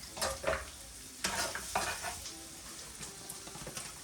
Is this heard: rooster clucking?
no